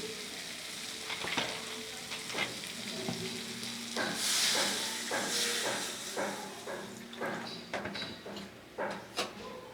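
Water goes into a pan of frying stingray fish and potato curry, setting off a loud hissing burst of steam. Uneven sizzles and crackles follow nearby, with stirring clatter and no talk.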